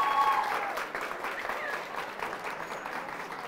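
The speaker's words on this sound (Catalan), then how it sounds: "Aplaudim, 170 punts." Audience applause for a school team's score on a Catalan TV quiz show, dense clapping that starts strong and tapers slightly, with faint voices mixed in.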